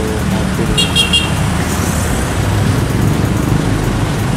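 Heavy traffic at the busy Garuda crossroads intersection in Singosari, a steady roar of car and motorcycle engines with a short burst of horn toots near the start, loud and continuous.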